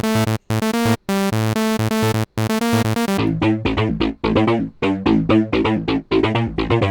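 Serum synth lead melody played in FL Studio, first as plain sustained bright notes, then a busier, punchier line with filter, distortion and delay echoes trailing each note, loud and without speech.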